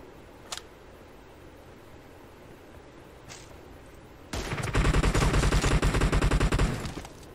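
Gunfire in the video game PUBG Mobile: after a quiet stretch with a couple of faint clicks, a loud rapid burst of automatic shots rattles for about two and a half seconds, then stops.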